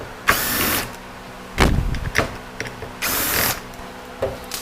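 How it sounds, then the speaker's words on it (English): A ratchet with a Torx 25 bit backing out two bolts on a 68RFE automatic transmission during a rebuild, bursts of loud rapid clicking separated by short pauses and a few metallic taps, close up. "let's get a Torx 25 and remove those 2 bolts"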